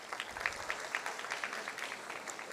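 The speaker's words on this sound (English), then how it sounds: "Please do give a round of applause." Scattered applause rises from an audience at a Mastercard Foundation graduate recognition ceremony, with a steady patter of light clapping over a room murmur lasting a couple of seconds.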